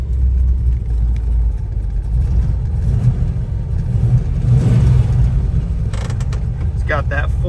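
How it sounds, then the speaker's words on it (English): A restored 1970 Dodge Challenger with a 440 V8 and four-speed rumbles loudly nearby, a deep steady engine drone with slight swells in revving, mechanical creaks, and a brief squeal near the end. "It's got that 440 V8 Mopar muscle sound to it. Really good running motor."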